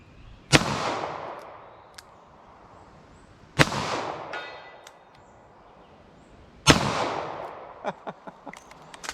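Three loud handgun shots at a steel target, spaced a few seconds apart, each a sharp crack with a ringing tail, and small metallic taps and clicks in between; the handgun is a .38 Special Super Police revolver or a 9mm.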